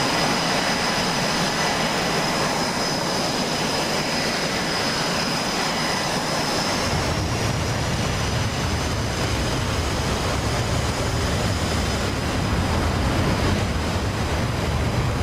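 An F/A-18 Hornet jet in the DCS World flight simulator roars steadily through its takeoff run, a loud broadband engine rush with a thin high whine, the low rumble swelling about halfway through, with no voices.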